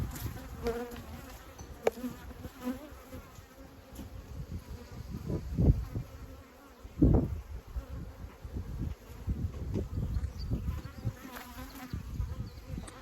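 Buckfast honey bees buzz around a hive, a dense continuous hum with individual bees passing close, plus occasional soft handling knocks.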